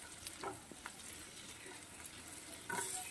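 Chopped onion, beans, carrot and capsicum fry over low heat in a pan for macaroni pasta, giving a faint, steady sizzle with a few soft stirring scrapes and a slightly louder burst near the end.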